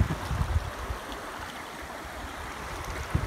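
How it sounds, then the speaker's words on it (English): River water flowing beneath an old stone bridge in Cumbria, a steady rushing wash with a few louder splashes near the start and end, no voices. "crossing the river here with this interesting stone bridge"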